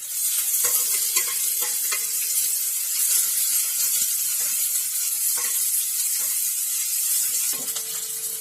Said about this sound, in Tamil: இஞ்சி பூண்டு பேஸ்ட்டோட வாசனை போறது வரைக்கும் நல்லா வதக்கிக்கணும்